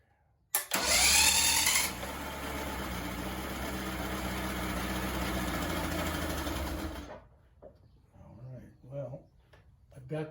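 A 1989 45 hp Mercury outboard engine holding a steady high-speed idle, a continuous droning hum for several seconds that cuts off, then faint sounds follow.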